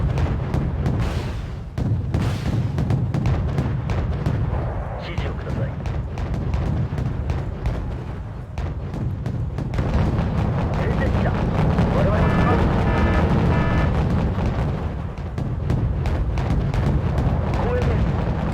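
Heavy 127 mm naval gun fire in a Wargame: Red Dragon sea battle as an enemy ship is destroyed, dense rumbling booms and blasts continuing throughout with a voice talking over the barrage.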